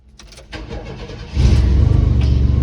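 Small shop truck engine cranking briefly, then catching and running with a loud, steady rumble close by.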